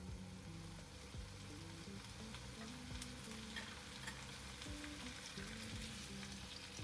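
Tomatoes frying in oil in a pot over lowered heat for a Korean-style pork belly dish, with a continuous close sizzle and repeated scraping stirs running throughout and nobody speaking.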